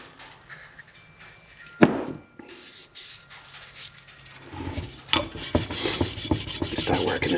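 A sharpening stone rasps in short scraping strokes across the engine head gasket surface of a Kawasaki Prairie 400 ATV, the rubbing close and uneven with a few knocks between passes.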